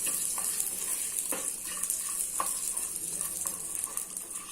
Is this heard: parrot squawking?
no